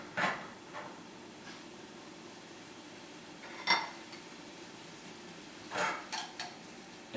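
Tongs clinking against a pot as sweet onions are stirred and sweated down for a spring braised rabbit, a few separate metallic taps and scrapes spread apart over a quiet kitchen background.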